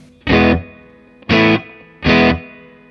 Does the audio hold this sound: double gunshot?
no